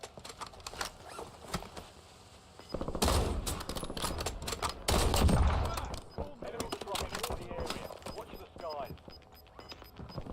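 Sniper and other gunfire in the video game Warzone, a couple of loud bursts of shots and rattling fire amid game noise, with someone talking at times.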